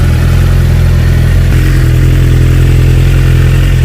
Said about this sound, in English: I've got the GSXR in the background revving.